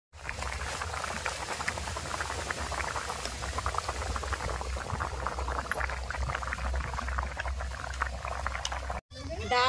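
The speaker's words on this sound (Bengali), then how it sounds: "ডাল সেদ্ধ হয়ে গেছে" Lentils (dal) boil in water in a covered pot, a continuous close bubbling and patter over a low rumble that cuts out briefly near the end.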